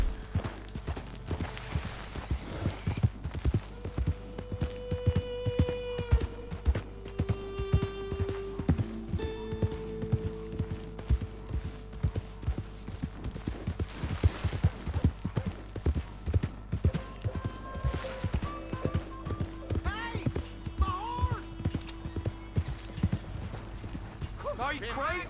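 Horse hooves clop rhythmically in a galloping pattern in Red Dead Redemption 2, with tonal game-like sounds and voices talking over them at times.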